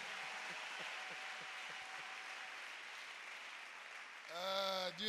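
A church congregation applauds together in a steady, dense wash of clapping for several seconds; the clapping gives way to a raised voice near the end.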